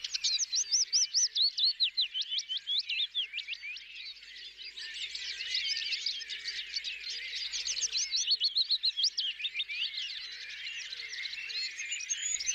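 Many birds chirp and sing together in a busy, high-pitched chorus of rapid, repeated notes that runs the whole time at moderate volume, with no voices.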